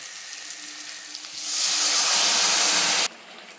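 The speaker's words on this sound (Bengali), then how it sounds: "সেটা আমি দিয়ে দেবো পেঁয়াজ আর টমেটো ভাজার মধ্যে।" Mustard-poppy paste with green chilli, salt and turmeric hits frying onion and tomato, and a quiet background sizzle swells into a loud, steady hissing fry that stops abruptly.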